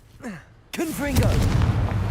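A Confringo spell explodes in the video game Hogwarts Legacy: after soft swooping tones, a sharp fiery blast hits suddenly and gives way to a rolling, crackling rumble with whooshing streaks.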